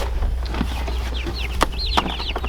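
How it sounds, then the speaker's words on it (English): Young chickens cheep and cluck close by while being moved to a new chicken tractor, with rising chirps and short clucks over a low steady hum. "We got the chicks right here, and they are ready to go to their new home."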